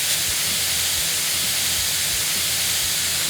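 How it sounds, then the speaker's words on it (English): Steam hissing off a rapid recovery cooking plate in a commercial kitchen, a loud continuous hiss with faint low thumps and rumbles underneath and no speech. "And you can see lots of steam coming off."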